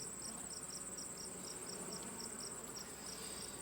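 Honey bees buzzing in an open beehive, a steady insect hum with a high thin whine pulsing in a regular rhythm, close and continuous without talk.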